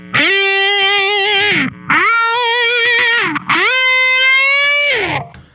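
Distorted electric guitar through effects, played with a deliberately weak, shallow vibrato: three sustained, buzzy held notes with only slight wavering pitch, each ending in a quick slide down, loud and close with no voices.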